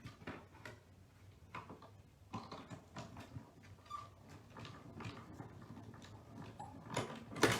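Hand-cranked embossing machine feeding a plate through for a strawberry cake pop-up card, giving faint, irregular clicks and ratcheting ticks close by, with a louder clatter at the end and no speech.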